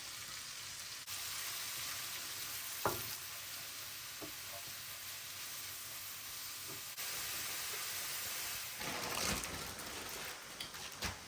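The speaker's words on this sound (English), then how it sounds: "Just adding in the onions and mushrooms that we sliced up." Onions and mushrooms fry in rendered bacon fat in a pan, a steady close sizzle with a few soft clinks and stirring sounds.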